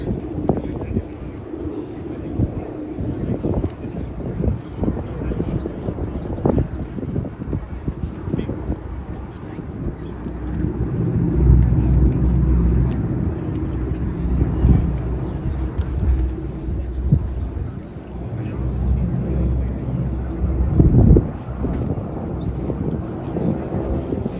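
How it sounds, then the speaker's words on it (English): WWII aircraft engines roar as planes pass in an arrowhead formation flyby at an airshow in Reading, Pennsylvania: a continuous loud drone swelling and fading, buffeted by wind noise, with a commentator talking over it. "Listen to the sound of the engines."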